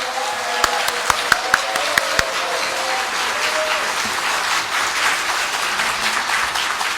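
An audience at a documentary premiere screening applauds in a hall, a broad, sustained wash of clapping with a few sharp, louder claps standing out near the start, while a voice speaks over it.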